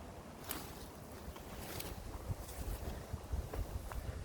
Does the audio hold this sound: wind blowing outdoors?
yes